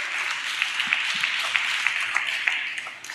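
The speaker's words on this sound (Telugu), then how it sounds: "చప్పట్లు కొడుతూ స్తోత్రాలు చెప్దాం" A church congregation claps their hands together in a steady, fairly even rhythm, a broad wash of many hands heard from a moderate distance for a few seconds.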